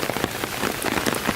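Heavy rain from Hurricane Florence in the Carolinas pours down as a dense, loud pattering and drumming on nearby surfaces, continuous and with no talking.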